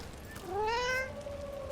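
A single drawn-out cat meow, rising then slowly falling, sounds close and fairly clear in the video game Dragon Age Veilguard, with no talking.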